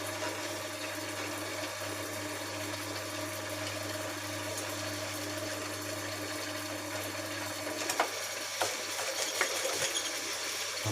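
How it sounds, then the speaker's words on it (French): A sewing machine stitching piping onto upholstery runs with a steady mechanical hum and fine rapid ticking, continuous and close, with a few brief louder clicks toward the end. "Je vais l'insérer directement et je vais le coudre sur le support que j'ai besoin."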